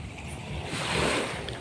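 Sea waves wash onto Seloso beach, with a broad rush of surf that swells toward the middle and is mixed with wind noise on the microphone.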